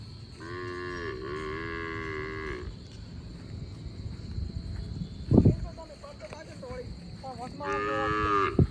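A Kankrej cow on a cattle farm gives two long, loud moos, one at the start and one at the end. Quieter people talk and move about in between.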